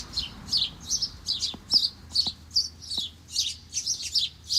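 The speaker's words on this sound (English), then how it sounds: "Birds, birds, birds," Birds in a tree about a meter away chirp outdoors in a quick, steady series of bright, close tweets, about three per second, over a quiet background with a few soft clicks.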